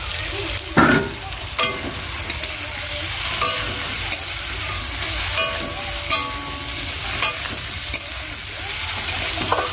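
Fried potato pieces being stirred into sizzling spice masala in a pan for a pangas fish curry: loud, continuous frying hiss with repeated scraping and clacking of a spoon, heard close up, no talking.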